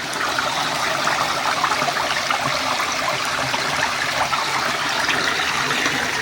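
Continuous rushing water flowing steadily nearby, an even, unbroken gurgling hiss with no voices.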